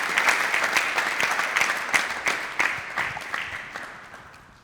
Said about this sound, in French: On va applaudir très fort pour Jeu de Love.